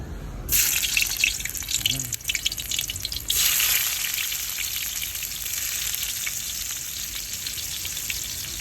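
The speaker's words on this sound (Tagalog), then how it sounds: "sa pagigisa mga idol, ako kasi malimit kong inuuna yung luya para agad lumabas yung aroma" Ginger hits hot oil in a pan for tilapia, a sudden loud sizzle bursting up and then settling into a steady close frying hiss, with a brief swell of stirring midway.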